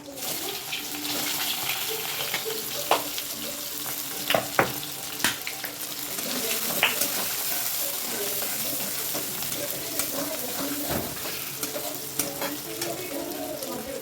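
Onion and cumin sauté in hot oil in a kadai, giving a steady broadband sizzle with scattered clicks and scrapes of stirring throughout, moderately close and with no talking.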